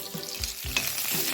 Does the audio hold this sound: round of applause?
no